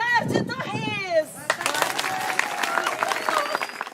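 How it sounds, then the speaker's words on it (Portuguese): An audience in an arts presentation breaks into steady, dense applause after a voice speaks, the clapping continuing evenly and fairly loud to the end. "Quando eu abrir o leque, vocês aplaudem, ok?"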